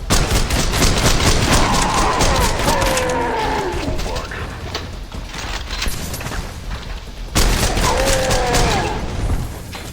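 Rapid gunfire in the shooter Trepang2, with dense, sustained bursts of automatic shots echoing through hallways, loud and close, easing off midway before another heavy volley resumes, layered with other combat sounds.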